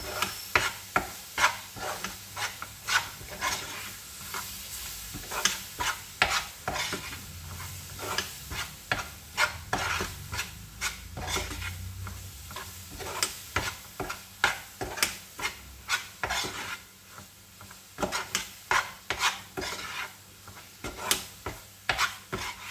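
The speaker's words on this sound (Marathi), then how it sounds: "हे छान असं हलवत राहायचं पूर्ण घट्ट गोळा होईपर्यंत" A thick ladoo mixture of grated coconut and mango pulp is stirred in a pan, the spoon scraping in a continuous run of rapid, rhythmic strokes with faint sizzling underneath, close and steady.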